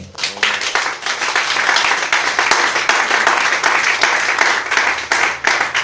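A church congregation breaks into loud, sustained applause and clapping in praise of Jesus during a Sunday morning service, the clapping dense and continuous with a few voices mixed in.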